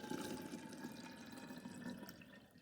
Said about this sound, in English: Then I'm going to pour in the water and see how far it goes up to.